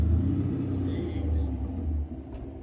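A Chrysler 300 with a Scat Pack engine swap runs loud, a deep steady rumbling idle close by that drops slightly near the end, with no talk over it.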